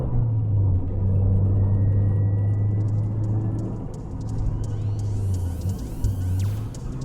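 Lancia Delta HF Integrale 8V driving, a steady low engine rumble from inside the car with road noise, the pitch shifting as revs change, loud and continuous.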